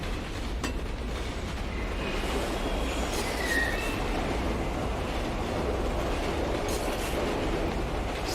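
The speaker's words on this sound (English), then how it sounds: "Train's going." A train in the video game Condemned: Criminal Origins rumbles steadily along the tracks with a constant heavy roar, faint wheel squeals and occasional metallic clatter, continuous throughout with no talking.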